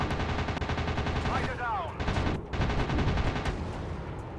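Rapid machine-gun bursts from WW2 fighter planes in the arcade flight game Warplanes: WW2 Dogfight, loud and sustained over a droning engine, with a brief whistling sweep in the middle.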